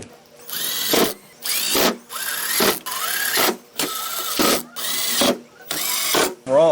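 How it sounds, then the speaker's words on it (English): Power driver spins T15 Torx bolts into a 2014-2018 Chevy/GMC tailgate cover in eight short whirring bursts, each rising in pitch and separated by brief pauses, close and clear. "we're going to go ahead and put back on the cover. And this takes 8 T15 Torx head bolts."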